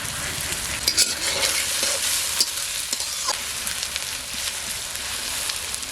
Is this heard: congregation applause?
no